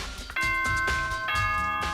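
Doorbell chime from the Danganronpa video game, a bright two-tone electronic ding-dong that rings twice in clear succession, loud and alone.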